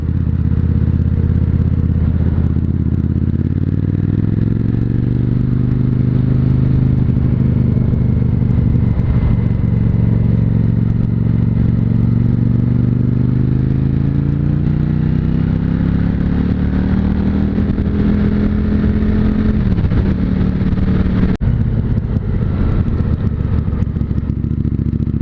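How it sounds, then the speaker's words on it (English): A motorcycle on the road with its engine on the overrun off the throttle, a loud, close, rumbling drone sliding down and back up in pitch as road speed changes, with wind buffeting and no talk. "It sounds great on the overrun when you get off the accelerator."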